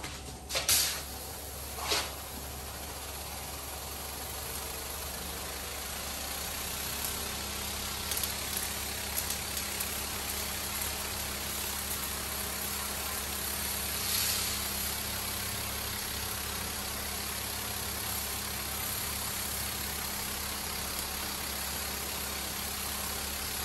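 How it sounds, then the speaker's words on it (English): Pressure washer spraying through a 25 to 40 degree fan tip nozzle at under 1,000 psi, stripping graffiti and a sacrificial coating off a wall; a steady broadband hiss and motor drone run throughout, with a few sharp bursts near the start. "So now we're going to pressure wash it as per the data sheet, 1000 psi, 25 to 40 degree fan tip nozzle"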